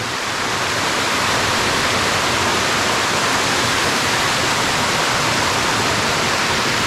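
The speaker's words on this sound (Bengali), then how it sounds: "যেদিকে তাকাবেন শুধু ঝর্ণার আওয়াজ আর আওয়াজ" A Rangamati waterfall roars in a steady, dense rush of falling water, loud and unbroken from start to finish with no voices.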